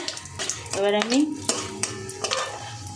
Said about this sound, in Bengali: একটু দারচিনি দেব আর লবঙ্গ দেবো 4টে, দিয়ে এটা একটু ভেজে নেব।